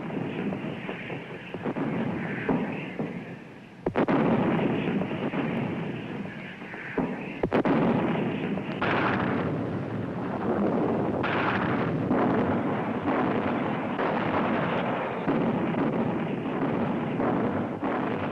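Navy ships bombard Beach Red at Guadalcanal, a heavy rumbling barrage of distant booming shell fire with sharp blasts rolling over one another through a wind-buffeted, crackly old film soundtrack.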